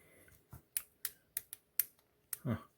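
Several sharp little plastic clicks from a Marvel Legends War Machine action figure's joints in an irregular series, close and crisp, with a soft muffled handling sound near the end.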